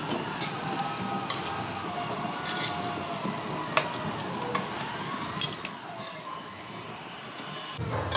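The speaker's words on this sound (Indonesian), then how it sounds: "Tumis dulu bumbunya." Spice paste sautéing in a pan for an eggplant dish, a steady close sizzle with scraping stir strokes and occasional clinks, running continuously without talk.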